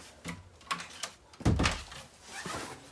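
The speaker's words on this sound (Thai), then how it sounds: "ปิดประตูก่อน" A door closes in a rural house in Serbia with a few knocks and rattles, then a heavy thud, followed by softer handling noises.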